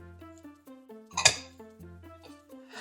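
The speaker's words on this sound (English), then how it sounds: "I am just going to mix this up together in my skillet." Liquid aminos, a gluten-free reduced-salt soy sauce, mixed with black pepper in a skillet. A utensil clinks and taps against the pan several times in a quiet kitchen, with one louder scrape near the middle.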